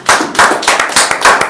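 Loud clapping from the audience at a seminar in Sunder Nagar, Himachal Pradesh, heard as a dense, close burst of hand claps in quick waves, with no talk over it.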